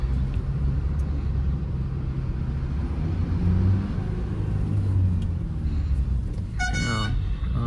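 Cars and lorries crawling through heavy rain, a constant low engine rumble under the rain's hiss, with a loud horn blast near the end.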